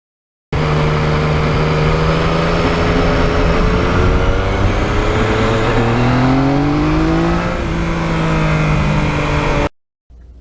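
A 2020 Yamaha MT-09 motorcycle, fitted with only a catalytic converter with baffles and no conventional muffler, growls loudly close-up while riding, its engine note rising and falling through gear changes before cutting out near the end.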